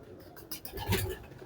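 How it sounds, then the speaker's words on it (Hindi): Pet pigeons kept by a pigeon fancier, soft low cooing in a short burst of throaty pulses, close but quiet, with light background noise. "अच्छा उस्ताद जी, ये कबूतर हैं"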